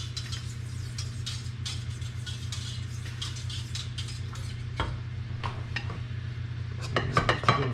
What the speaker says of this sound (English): Step over here and stir my cocoa real quick.